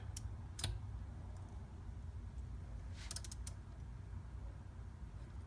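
Torque wrench clicking while tightening scope ring screws on a Remington 700 rifle, one sharp click early and a quick cluster of faint clicks around the three-second mark against a quiet background.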